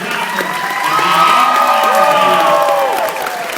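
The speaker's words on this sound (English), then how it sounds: "A big round of applause for the driver" A large crowd at the NASCAR Hall of Fame cheers, whoops and applauds for Mountain Dew and National Guard Chevrolet driver Dale Earnhardt Jr., a loud sustained roar of voices with high shouts swelling in the middle and easing toward the end.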